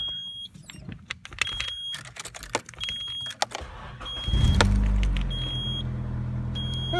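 Car exhaust on a test run: clicks, a beeping chime and small mechanical noises, then the engine starts and settles into a loud, steady low exhaust rumble at close range.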